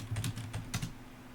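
Several quick keystrokes on a computer keyboard entering numbers, a close, crisp cluster of clicks with a short pause, no one talking.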